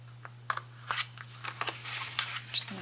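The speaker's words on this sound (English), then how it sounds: "I'm just going to trim this out using my scissors." Scissors snip through paper while a Christmas pocket letter is trimmed, a run of short crisp cuts close by, irregular and quiet, over a steady low hum.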